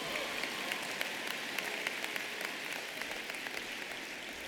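Steady applause from a commencement crowd at the UIC College of Architecture, Design and the Arts spring ceremony, a dense continuous patter of many hands that holds evenly throughout with scattered sharper claps.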